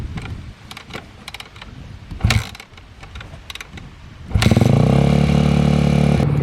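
An old tractor engine cranking with a few uneven clanks and a sputter, then catching and settling into a loud, steady, close chugging idle for the last couple of seconds.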